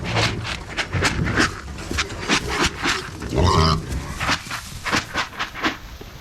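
Hungry weaner pigs grunt and snort close by in rapid overlapping bursts, with a louder squeal partway through.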